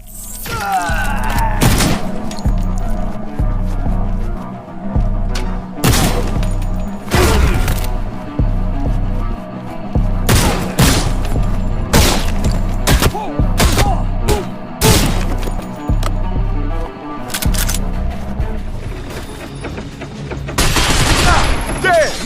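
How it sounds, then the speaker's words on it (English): Machine gun fire rattles in a brutal video game shooter, loud repeated bursts of gunshots and booms across a tense firefight over a steady bed of game music, with some voice over the action. "Watch out for that machine gun fire!"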